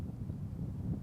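Steady low wind buffeting on an outdoor microphone, a continuous rumble and roar with no speech over it.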